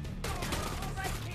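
Dense, continuous burst of video-game gunfire from the mobile open-world crime shooter Codename Crime-Vice, a rapid volley of shots layered with a voice speaking over it, loud and close throughout.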